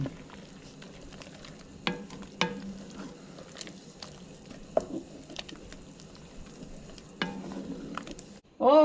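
Onions and tomato frying in a pot for chile rellenos, heard as a soft, steady sizzle with occasional stirring knocks and scrapes.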